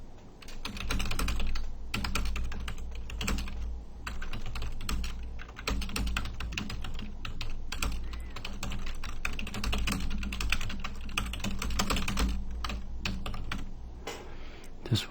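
Steady, brisk typing on a computer keyboard, close and clear, with rapid irregular keystrokes and brief pauses running throughout, and no voices.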